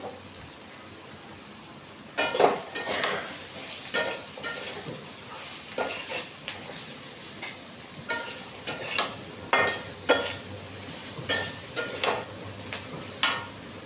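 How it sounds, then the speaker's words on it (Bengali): Spice paste of turmeric, red chili powder and salt sautés in a pan for a Bengali fish curry, with soft sizzling and repeated scraping stirs after a sudden start. "মশলাটাকে কষিয়ে নিতে হবে"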